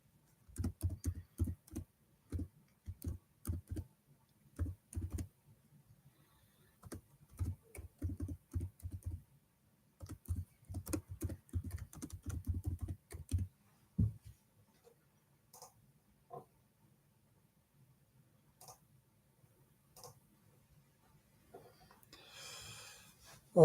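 Someone types a title on a computer keyboard, bursts of rapid close key clicks with short pauses that thin out into sparse taps and quiet breathing near the end.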